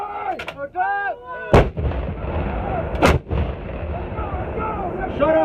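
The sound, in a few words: artillery firing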